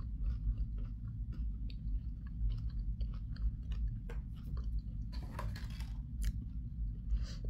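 Crunchy crackers flavoured with onion and garlic being chewed close up, with steady crisp bites and crunches over a low background hum.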